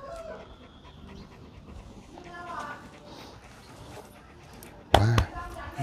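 A Doberman pants in quick, soft breaths close by under someone talking, with a sharp loud knock or bump near the end.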